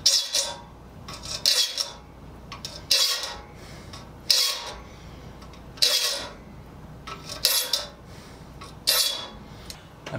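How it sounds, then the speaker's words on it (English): A hand file sharpening the teeth of a saw, shaping each tooth to a point: repeated bright rasping strokes in an even rhythm, roughly one every second and a half, close and clear without speech. "I'm just filing this until the shiny spot gets off the top of the tooth."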